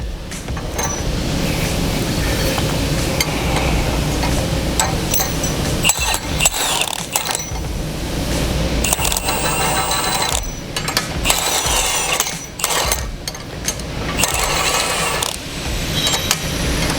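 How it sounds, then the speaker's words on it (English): An impact wrench drives nuts onto a KAGE under-hitch being fitted to a John Deere 4066R compact tractor, giving loud, close rattling bursts broken by short pauses and metallic clinks of parts being handled. "So this is where the impact wrench makes it real nice."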